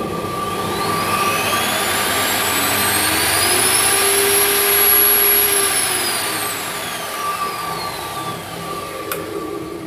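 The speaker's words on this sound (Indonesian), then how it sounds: "Sekarang saya akan nyalakan table saw M608 dari modern ini" A Modern M608 table saw motor switches on and spins up to a high whining pitch, holds a steady loud running whine, then winds down slightly, set against a constant electric hum.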